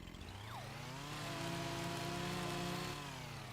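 A chainsaw in the Farming Simulator 25 video game revs with a steady, harmonic buzzing drone, loud and continuous, with the pitch rising slightly and then settling back.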